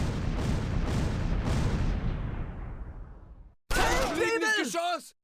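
Medium machine gun firing in the World War II strategy game Close Combat 4 at Wiltz, Battle of the Bulge: a few rapid thumping bursts with a long decaying rumble, then a voice speaking.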